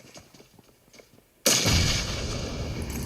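A grenade going off inside a building's top window in PUBG during a duo scrim match, a sudden loud broadband blast after quiet gunfire and movement, with a long rumbling tail.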